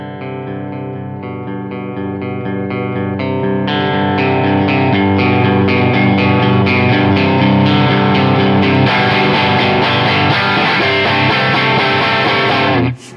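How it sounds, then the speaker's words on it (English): An electric guitar plays a run of notes that builds from a quiet, clean tone into a loud, thick distorted sound, sustaining at full volume before cutting off abruptly at the end. "the dynamic range from really quiet and clean to really loud and distorted is here"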